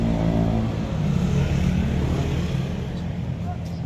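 Heavy road traffic heard from inside a moving vehicle, a loud, steady low engine rumble and road roar that stays constant throughout, with faint voices of people talking beneath it.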